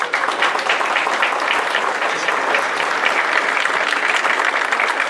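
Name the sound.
conference audience applause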